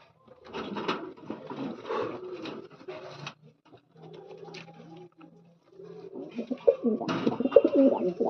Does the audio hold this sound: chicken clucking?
no